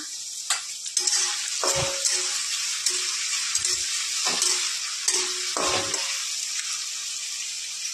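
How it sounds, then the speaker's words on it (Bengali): Potatoes fry in oil in a karai with dried red chillies and bay leaves, giving a bright, constant sizzle with several clanking spatula strokes against the pan spaced through the stretch, and no speech. "আলুটা ভালো করে ভেজে নেব।"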